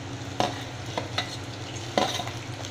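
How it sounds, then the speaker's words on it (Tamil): Onions and dried red chillies fry in a pan for wheat rava upma, with a soft continuous sizzle broken by a few sharp scrapes and clacks of a spoon stirring. "வரமிளகாய் ஆட் பண்ணி நல்லா மிக்ஸ் பண்ணிக்கோங்க."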